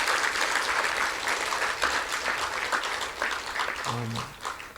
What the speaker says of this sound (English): Please give another warm round of applause for Professor Shane.